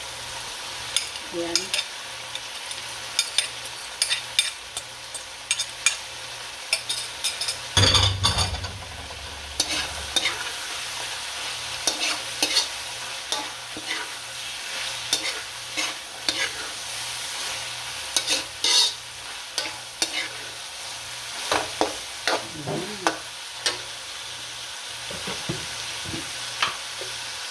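Tofu dropped into hot oil in a pan, with a steady sizzle and frequent clattering, scraping stirs, close up and briefly louder around the drop, with a brief spoken word.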